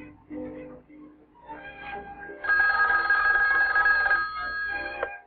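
A Bell telephone line in 1959 rings back after a long-distance direct-dialed call reaches a wrong number. Some soft clicks and murmurs come first, then a loud, steady, bright ring holds for nearly three seconds before cutting off.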